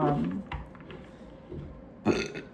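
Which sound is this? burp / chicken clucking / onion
burp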